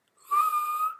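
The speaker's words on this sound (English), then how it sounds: "And now, as for inhaling while whistling," A single whistled tone produced while inhaling, thin and steady, starting abruptly and holding for under a second with slight wavering, close and alone with no talking.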